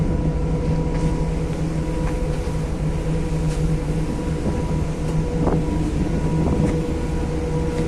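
A ferry engine drones steadily at sea, a loud low hum with water rushing and wind buffeting the microphone throughout, with occasional faint clicks.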